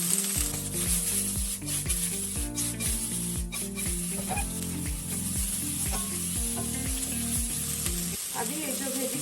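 Chopped vegetables and green capsicum fry in a pan for chicken Manchow soup, giving a steady, continuous sizzle over the full length while music plays along.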